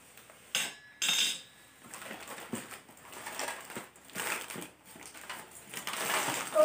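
Newly bought kitchen utensils, including a kadhai lid, clatter and clink as they are handled, with several sharp metallic knocks and scraping rustles over a few seconds, fairly close and moderately loud.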